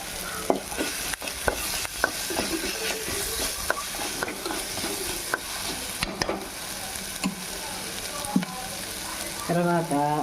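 A potato and egg kurma masala fries in a pan with coriander added, sizzling steadily and loudly throughout while a spoon scrapes and stirs in repeated strokes, no talking.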